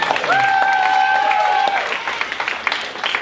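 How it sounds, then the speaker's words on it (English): Audience applause at a live improv comedy show, a steady wash of clapping over the whole stretch with a held musical tone partway through and some crowd noise. "So just give yourself another round of applause."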